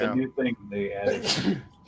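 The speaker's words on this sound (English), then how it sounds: "Bless you." A single sneeze bursts out partway through a conversation, with people talking over it before and after.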